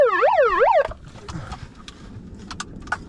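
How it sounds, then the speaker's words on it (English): A loud wailing siren sweeps up and down from a megaphone inside a car, then cuts off abruptly, leaving scattered knocks and rattles. "why are you taking my siren?"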